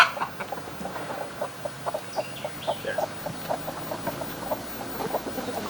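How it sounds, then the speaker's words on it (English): Chickens cluck in short, repeated bursts at close range while scratching through and tearing up fresh straw, with soft rustling underneath and no talking. "The chickens have wasted no time in tearing up this straw."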